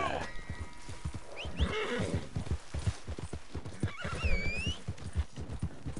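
Steady clip-clop of horse hooves with a couple of neighs in Red Dead Redemption, close and fairly loud, continuous throughout.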